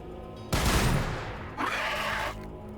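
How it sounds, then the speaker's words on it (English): A grenade volley fires in Warhammer 40,000: Battlesector, with a loud burst of launches followed by a second sustained roar of explosions, close and dominant over the battlefield ambience. "Firing grenade volley."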